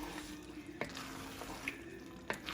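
Hot water pours into a chicken and mushroom stew in a pot as a steady, soft splashing stream, broken by a few sharp clinks and bubbling pops.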